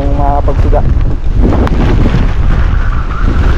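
Strong typhoon wind buffets a microphone on a hilltop by the sea, a loud continuous roar and rumble that briefly masks a voice at the start.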